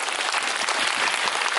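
An audience at a Korean film premiere live talk event applauds, a dense, steady burst of clapping filling the room, loud and even throughout with no voices over it.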